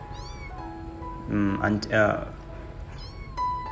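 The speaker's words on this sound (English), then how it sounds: "that's heartbreaking when you heard the meows like that" A stray street kitten meows repeatedly at night, high and plaintive cries in a steady series; a person speaks briefly in between.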